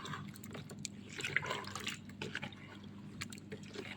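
Water is poured into a homemade date-drink mixture during preparation, giving a faint, steady run of liquid splashing and dribbling against a low background hum, with no talking.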